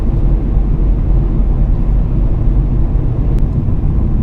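A manual transmission car cruises in fifth gear at about 55 miles per hour, giving a steady, loud low rumble of engine and road noise that holds constant throughout.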